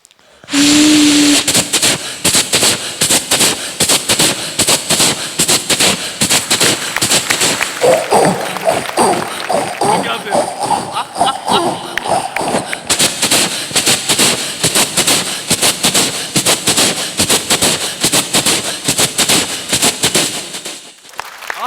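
A voice imitates a train rushing through a tunnel: a loud, continuous roaring rush with dense crackling bursts, sustained for about twenty seconds.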